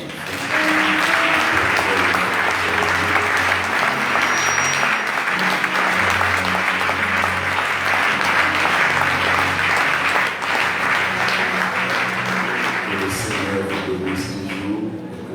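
A church congregation claps and cheers in praise, a dense, steady wall of applause that stays loud from start to finish, with a few voices faintly mixed into the crowd noise.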